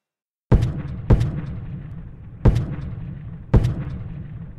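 Civil War artillery fire from Union heavy guns at the Second Battle of Bull Run: four loud booms spaced unevenly, each a sharp blast fading into a rumbling tail.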